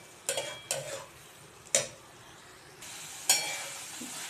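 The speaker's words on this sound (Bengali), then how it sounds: "এবার এটাকে আমি ভালোভাবে নেড়ে চেড়ে পোস্তটা মিশিয়ে নেব" Onion and poppy seed paste is stirred in a pan, with a few distinct spoon scrapes and knocks spaced irregularly over a faint background, no talking.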